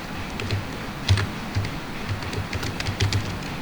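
Typing on a computer keyboard while writing a post, a steady run of light, close clicking keystrokes at an irregular pace over a constant background hum, with no voices.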